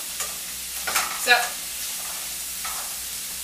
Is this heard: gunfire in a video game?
no